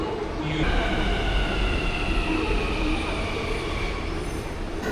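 A Hyderabad metro train runs along its track with a loud, steady rolling rumble, and high sustained wheel squeals ring above it for several seconds.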